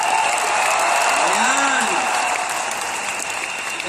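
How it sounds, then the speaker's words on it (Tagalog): A large arena audience applauds loudly in a dense, sustained wash of clapping, with a brief spoken word from a host near the start. "Pwede ba bumalakpak ng napakalakas?"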